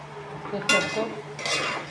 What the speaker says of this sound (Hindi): देखिए आलू, मटर, इसमें मसाला डाल के भूनेंगे।